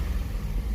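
A 2005 Chevrolet Silverado V8 engine with a misfire, idling after being revved, a close low rumbling drone with uneven pulsing in its tone, loud and steady over a brief span.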